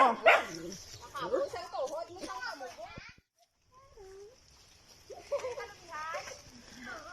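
A dog barks several times nearby amid children's voices and chatter, with a brief quiet gap in the middle.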